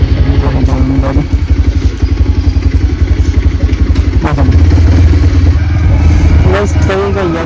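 A motorbike engine runs steadily while being ridden, a close, dense pulsing throb that swells and shifts pitch partway through, with occasional clatter and talk over it.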